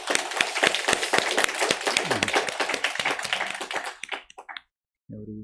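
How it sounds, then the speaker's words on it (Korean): A church congregation claps in a dense burst for about four seconds, then the clapping thins to a few scattered claps and stops. A voice begins speaking right after. "우리 하나님께 감사와 영광의 박수 올려드리겠습니다"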